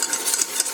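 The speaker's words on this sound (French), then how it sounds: "Et j'arrête pas de mélanger." A spoon scraping and stirring through thickening béchamel sauce in a pan, with soft repeated strokes and faint clinks close by, no talking.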